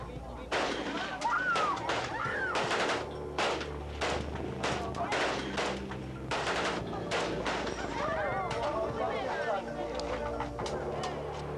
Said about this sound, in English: this included a firing range, courtesy of the People's Liberation Army